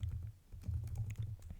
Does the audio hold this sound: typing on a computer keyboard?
yes